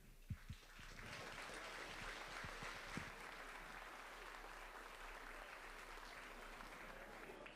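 An audience welcomes the port commission chairman at the State of the Port event with sustained applause from a large crowd, opening with a few distinct near claps before settling into a dense, even wash of clapping.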